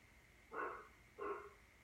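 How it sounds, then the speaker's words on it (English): A dog barks twice, evenly spaced, a short distance away, each bark a clear single woof over a quiet room background. "Don't mind the dog barking."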